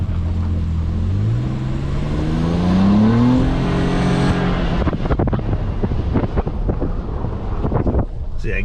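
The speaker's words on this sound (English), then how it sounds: "you can hear the intake a little bit" Engine intake of a 2022 Nissan Frontier Pro-4X pickup rising in pitch as it accelerates with the window open, a steady drone climbing for about four seconds, then giving way to rougher road and wind rumble.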